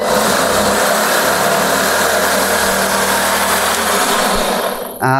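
An unmounted drive motor from an Allett Liberty lawnmower runs loud and steady, droning with a rough, wobbling vibration before cutting off abruptly at the end.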